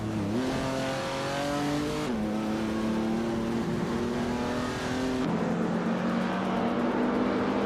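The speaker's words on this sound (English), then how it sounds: "Zikapal is leading with a 1964 Porsche 901, which is known for its balanced handling and classic style." 1964 Porsche 901 race car engine droning loudly and steadily through gear changes, pitch climbing then dropping at each shift, close and continuous with no talk.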